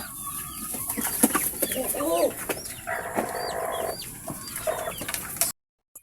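A native hen clucks near at hand while a newly hatched chick peeps in thin, high chirps, with people talking softly in the background before the sound cuts off abruptly.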